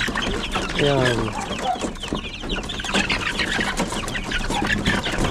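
Backyard chickens clucking close by in a Philippine farm setting, with repeated short clucks and a rising call amid constant ambient noise, while someone talks.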